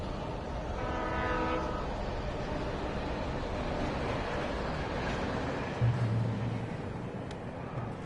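Train rumbling along in the video game Alan Wake, a steady low rolling roar with a short horn blast early and a deeper horn tone later, no talk.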